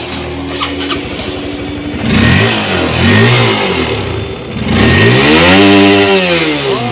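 A first-generation Honda CB150 motorcycle with a remapped ECU is revved hard in repeated rising and falling sweeps toward high rpm. The engine is loud and close, with a sharp, raspy exhaust note and no voices.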